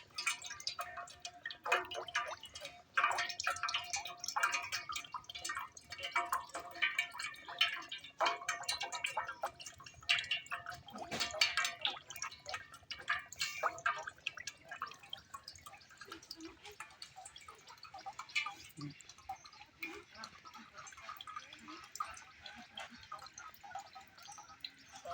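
Quiet trickling and dripping of water from a freshly picked green coconut into a container, irregular drops continuing throughout, with people talking faintly at times.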